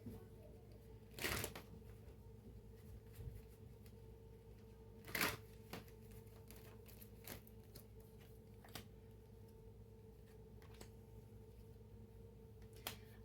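Tarot cards are shuffled and drawn in a few quick riffling bursts, fairly near and crisp, with soft handling noises and quiet gaps between them.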